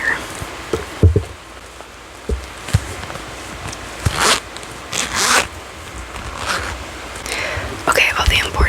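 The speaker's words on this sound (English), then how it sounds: "So there's a zipper." A purse zipper is opened with a series of short, close, crisp rasping pulls, interspersed with soft handling rustles and quiet breathy sounds.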